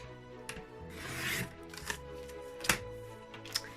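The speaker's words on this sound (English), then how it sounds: "So I'm going to trim along that crease line, which is at the 4 1/4 mark." Cardstock being trimmed along a crease line at the 4 1/4 inch mark, heard as several dry rasping, scraping passes of a blade with short sharp ticks between them, close and fairly quiet.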